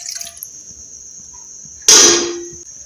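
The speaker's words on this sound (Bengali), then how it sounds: "কাপ জল দিয়ে দিচ্ছি" One and a half cups of water pour into a pan in a short, loud splashing burst that tails off, following a quiet stretch with a faint steady tone.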